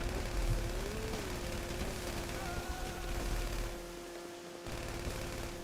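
Rapid bursts of missile fire in Grand Theft Auto Online rattle continuously over a droning engine hum, with a brief dip before the barrage resumes.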